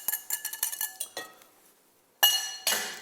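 Egg yolks being whisked with sugar in a bowl, a utensil clinking rapidly against the side in a quick rhythmic burst, a pause, then two louder scraping clinks close up.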